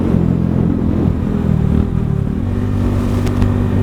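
A Mutt motorcycle's exhaust idles and burbles close by with a deep, steady thump, a brief rise in revs near the start, and a faint clatter toward the end.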